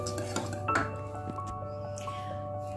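Quiet kitchen sounds of pastry cream going into a cherry tart shell: a soft wet squish and a few light clinks of a spoon or bowl, heard close and alone.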